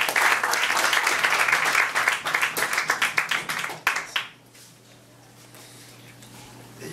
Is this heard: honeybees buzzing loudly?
no